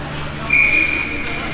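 A referee's whistle sounds at a junior varsity ice hockey game near the end of the second period, a single high steady blast of about a second over arena noise and a commentator's voice.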